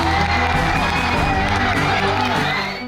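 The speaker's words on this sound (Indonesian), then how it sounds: "Kedatangan Presiden disambut antusias dan sorak gembira para siswa yang menyambut langsung kehadirannya di lingkungan sekolah." Students at SMP Negeri 111 in West Jakarta cheer and shout together to welcome President Prabowo Subianto at their school: a dense, loud, continuous crowd roar with high children's whoops that eases slightly at the end.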